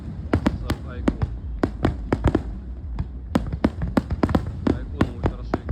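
Fireworks recorded on a smartphone (vivo iQOO 12 or iPhone), giving a rapid series of sharp bangs and crackles at irregular intervals, fairly close and loud with a dense rumbling bed beneath.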